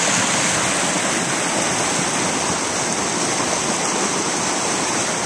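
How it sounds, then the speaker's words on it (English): Water rushes down a mountainside at Spring Creek in a constant, full roar of hissing and splashing, loud and unbroken, with no one speaking. "Look at the water rushing down from the side of the mountain there."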